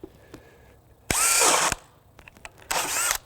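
A DeWalt DCD998 drill on high speed with a 2 amp hour battery bores into wood with a 1.5-inch spade bit in two loud, close bursts of whining, grinding drilling separated by a brief quiet pause.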